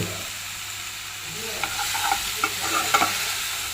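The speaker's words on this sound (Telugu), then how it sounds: "ఇప్పుడు ఈ చికెన్ అంతా వేసేసుకోవాలి." Chicken pieces fry in a hot pan with a steady sizzle, while a spoon stirs and scrapes them in bursts of clattering strokes that grow busier toward the end, heard close with no talk.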